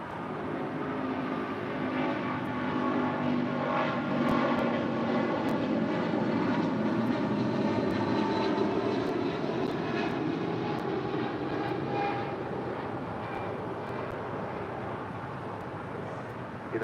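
Polar 962 Heavy, a heavy cargo jet, lands on runway 25 left at LAX with a loud, sustained engine roar and whine that holds steady throughout, close by and with no voices.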